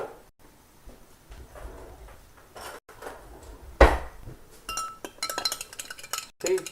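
A spoon clinks against a bowl while eggs are beaten for an omelet, with scattered light taps followed by a faster flurry of clinks close up and no speech.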